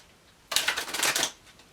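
Tarot cards riffle through one quick shuffle, a dense burst of close, crisp flutter lasting under a second before quiet returns.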